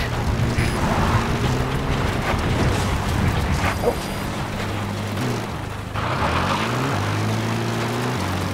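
A helicopter in the Metal Gear Solid V video game: a steady rotor and engine drone with layered low tones. It runs continuously under game ambience, with a short dip near the middle before the thrum returns.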